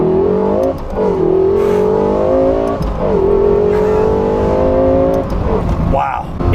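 A Lexus LFA V12 revs up hard and repeatedly, a loud, close, rising howl that climbs, dips at gear changes and climbs again to high revs, with a voice talking over it.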